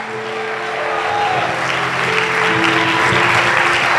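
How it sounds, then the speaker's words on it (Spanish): Church congregation applauding during a Spanish-language sermon: dense, steady clapping from many hands, loud and close, with faint voices and sustained tones underneath. "Dale un aplauso a Dios."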